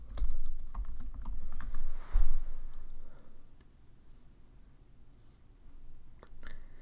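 Someone typing a command on a computer keyboard at a terminal on an M1 MacBook: a quick run of close, crisp keystrokes for the first few seconds, then a pause and a final pair of taps.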